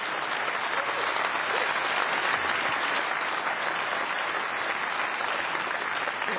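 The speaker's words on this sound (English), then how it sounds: "You say that, and the members applause" Tory party members at a leadership Q&A applaud in a dense, sustained round of clapping that fills the room at an even level throughout, with no break.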